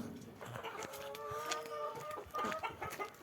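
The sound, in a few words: chickens clucking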